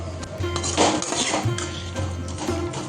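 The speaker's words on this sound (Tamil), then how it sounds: "இப்போ ஒரு கரண்டி வச்சு நல்லா மிக்ஸ் பண்ணி கொடுக்கலாம் எல்லாம்" Ladle clinking and scraping in a metal pot while masala rice with turmeric is mixed, a steady run of close, moderately loud metallic knocks with a low hum underneath.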